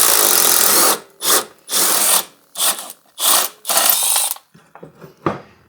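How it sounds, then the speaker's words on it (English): A power tool, likely an impact gun, removes underside bolts from a Kawasaki Lakota quad in close, loud bursts: one long run then five short rattling pulls with brief silences between, followed by a few faint clicks and a last short burst. "I was trying to take the underside bolts off"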